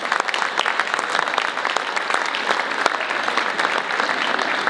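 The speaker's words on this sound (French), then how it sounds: "je veux qu'on donne une bonne main d'applaudissement" Steady, dense applause from an audience at a tribute ceremony, many hands clapping continuously at even volume for the whole stretch, with no voices standing out.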